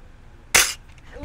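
A single sharp gunshot cracks out of near silence, brief and loud, then fades quickly.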